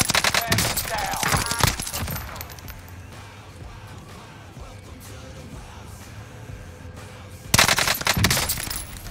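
Close automatic bursts from an H4 Blixen SMG in Call of Duty, loud rattling fire at the start and again near the end, with a quieter stretch of distant shots and ambience between.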